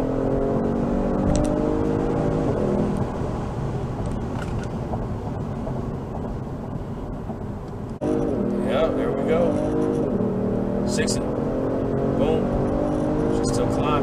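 A Genesis G70 3.3T in sport mode, traction and stability control off, surges forward on launch control, its engine note climbing in a rising sweep, dropping briefly, then pulling hard again near the end.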